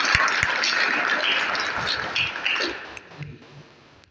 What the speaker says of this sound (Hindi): तो भाई आराध्या तिवारी की लेवल जोरदार ताली हो जाए।